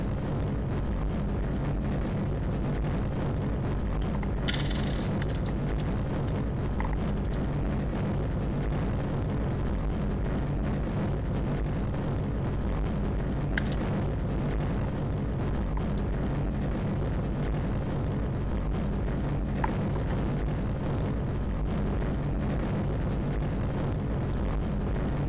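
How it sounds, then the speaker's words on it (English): An R-7 rocket launching Sputnik 1 in Kerbal Space Program roars as a steady, dense, broadband rumble that stays loud and unchanging throughout, with only a few faint clicks over it. "we're still launching Sputnik 1 into low Earth orbit"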